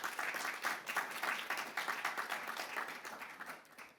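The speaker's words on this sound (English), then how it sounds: "So another resounding round of applause for our economists" Audience applause at a national labour-market report launch event, a steady wash of many hands clapping that holds loud and dense throughout, with no talking.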